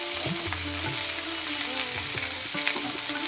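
Oil sizzles and crackles as curry leaves, coarsely chopped onion and chillies fry, with scraping stir sounds and a few soft clanks from the pan.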